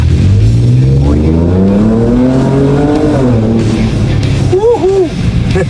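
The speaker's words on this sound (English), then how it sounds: "Se queda pegado patinando, ¿no viste? Esto quedó brutal. brutal, suena sádico y acelera como una moto." A tuned 2024 Ford Ranger Raptor Stage 2 pickup in 4x4 accelerating hard with wheelspin, its loud engine note climbing in rising sweeps close by, with short revving bursts toward the end.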